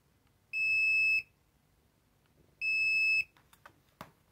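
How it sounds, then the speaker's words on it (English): Integrated buzzer of a Wiha contactless voltage detector giving two steady, high electronic tones of about half a second each, a couple of seconds apart, followed by faint handling clicks in a quiet room. "Also, it has integrated buzzer"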